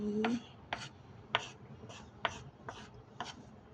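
A knife slices through ingredients on a cutting board for a steamed minced pork dish with mushrooms and dried squid. About seven crisp, evenly spaced cuts sound close up and fairly quiet.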